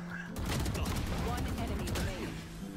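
Rapid gunfire rattles through a video game shootout, dense overlapping shots and bursts filling the mix, with voice chat and game sounds underneath.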